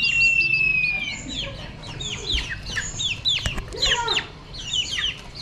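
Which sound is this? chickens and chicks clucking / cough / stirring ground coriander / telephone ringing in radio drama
chickens and chicks clucking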